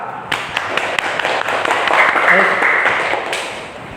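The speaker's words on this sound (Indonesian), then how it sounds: "Aplaus untuk kelompok 4." A classroom of students claps for a presenting group, a brief scattered patter of hands close by that swells and fades over a few seconds, with a voice speaking over it.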